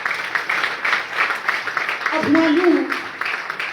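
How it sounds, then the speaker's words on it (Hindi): Brief scattered audience clapping at a business training program, light and uneven under an announcer's continuing speech. "प्लीज एक बार ताली बजाइए सर"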